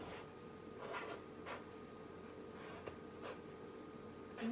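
A marker or chalk is faint against a classroom board as a question is written out, making soft scratchy strokes in short bursts with small pauses between letters. The sound is quiet and close, and no one speaks.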